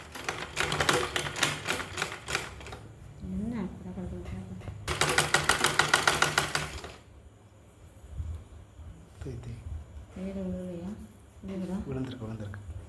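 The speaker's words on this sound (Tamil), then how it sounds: "மடிச்சுட்டு ஓரத்துலேயே ஒரு தையல்." A sewing machine runs in two fast rattling bursts while stitching a folded edge on a blouse, with someone talking steadily over and between the runs.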